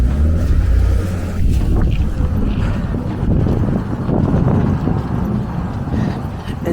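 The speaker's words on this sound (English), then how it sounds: "It's absolutely so windy as well." Strong wind in New York City on a dark, cold evening roars and buffets steadily throughout, a loud continuous rumble with gusty fluctuations and no pauses.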